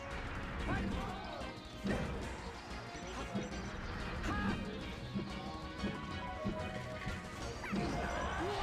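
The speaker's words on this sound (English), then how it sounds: "Another forward smash?" Forward smash attacks land in a Super Smash Bros. Melee tournament match between Jigglypuff and Fox. Loud, sharp impact crashes and whacks repeat amid busy game effects, with commentators talking throughout.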